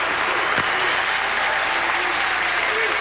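Dense, steady applause from a near-capacity crowd of about 2,500 filling a bowling arena at the 2003 PBA World Championship, a continuous broad wash of clapping with no break.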